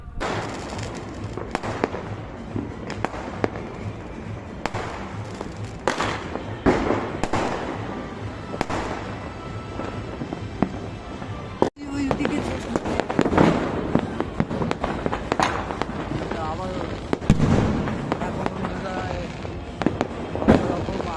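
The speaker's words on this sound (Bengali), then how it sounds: "12টার পর প্রচুর এখানে বাজি ফেটেছে, তোমরা দেখতেই পাচ্ছ" Dense New Year's night fireworks and firecrackers burst continuously, near and far, in overlapping cracks and booms with no pause, while faint voices carry underneath.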